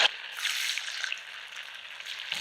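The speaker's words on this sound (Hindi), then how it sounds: "तो इसी तरीके से हम लो टू मीडियम फ्लेम पे फ्राई कर लेते हैं।" Small sabudana and potato pakoras fry in hot oil over a low to medium flame, giving a steady, close, bright sizzle with fine crackling that runs unbroken throughout.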